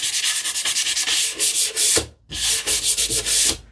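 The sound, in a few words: sanding wood by hand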